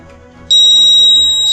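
A piezo buzzer alarm driven at 3 volts bursts on suddenly as a loud, steady, piercing continuous tone that holds to the end, alone after faint background hum.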